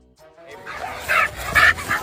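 A dog gives a few short yipping barks in close succession, loud and near, rising out of a quiet start with some background noise.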